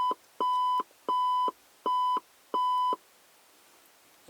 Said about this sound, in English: it beeped for maybe 15 seconds or so and quit